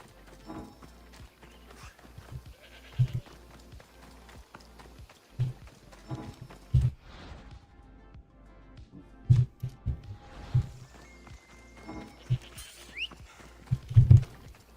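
Horse hooves clip-clopping at a walk in Assassin's Creed Odyssey, irregular close thuds with a few heavier steps, alone without talk.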